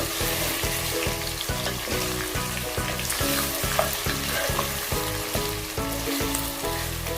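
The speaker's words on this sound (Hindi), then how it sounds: "अब हम इसको एक साथ फ्राई कर लेंगे।" Green cardamom pods and spices fry in a pan with a dense, continuous sizzle, set against a steady, rhythmic thumping beat of background music, with no voices.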